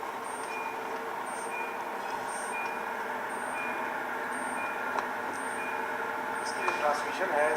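An HTV driving simulator plays a truck engine drone under repeated reversing beeps at a steady rhythm, with occasional faint clicks and someone talking nearby.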